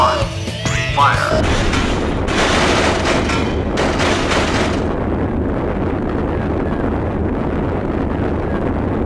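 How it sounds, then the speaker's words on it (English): A missile launching and exploding in the Sonic Adventure 2 video game: a loud, blasting roar with crashing debris. It settles into a sustained, heavy rumble that carries on to the end. "Missile launch in 15 seconds."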